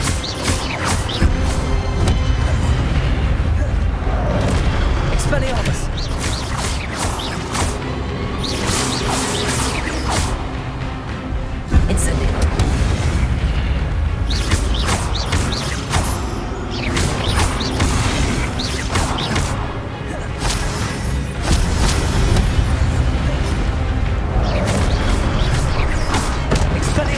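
Spell casting in the Hogwarts Legacy video game, a dense, loud stream of whooshes, magical bursts and booms layered over a continuous game soundtrack with short shouted incantations.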